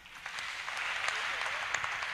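Applause from a church gathering audience, a continuous spread of clapping with a few sharper claps standing out, fairly close and steady over the short stretch.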